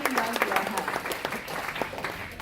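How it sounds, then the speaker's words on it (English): Audience applause greeting an agricultural research expert introduced at a food-themed talk, a steady wash of many hands clapping with some voices mixed in, moderately loud throughout. "So please give him a warm round of applause."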